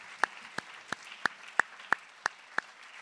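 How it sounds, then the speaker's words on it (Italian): Eight evenly spaced claps ring out one at a time in a quiet room at a diploma ceremony, faint and sparse rather than a full crowd. "Vi accompagna il nostro applauso e il nostro ringraziamento."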